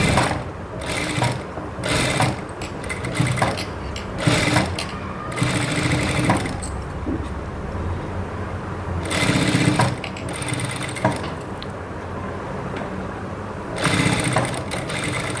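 A sewing machine with a standard presser foot stitches piping onto a garment, running in several bursts of steady mechanical whirring separated by short pauses and handling noises, close and fairly loud.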